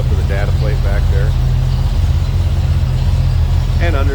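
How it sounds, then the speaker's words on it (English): Ford 289 V8 idling in a 1949 International KB2 pickup, a steady low rumble that holds evenly throughout, with someone talking briefly over it near the start and again at the end. "smooth running V8"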